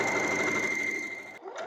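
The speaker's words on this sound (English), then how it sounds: "I'm going to take this to the sewing machine and sew stitches right here on both of those pinned spots" A sewing machine runs steadily, stitching fabric tails together for a cooling neck wrap, a close, even mechanical whir that stops abruptly near the end.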